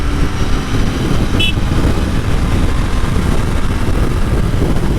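Royal Enfield Interceptor 650 BS6 parallel-twin engine running on the road, a steady loud drone mixed with wind rush, with a brief high beep partway through.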